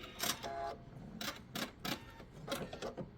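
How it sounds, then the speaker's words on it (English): Sewing machine stitching a laptop sleeve: short bursts of rapid mechanical clatter broken by brief pauses, close and fairly quiet, with no voices. "So I'm going to sew just a little bit past where my stitches began"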